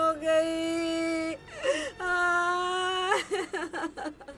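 A woman wails and cries in long, sustained, quavering tones that break off and resume, then dissolve into shaky sobbing cries, loud and close with no other sound.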